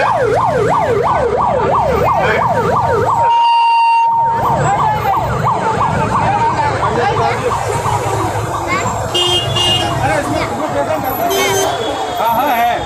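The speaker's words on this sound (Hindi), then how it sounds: "एम्बुलेंस को निकल जाने दो।" A wailing emergency siren sweeps up and down loudly over busy traffic and crowd chatter, briefly cut out midway before a steady tone and horns continue.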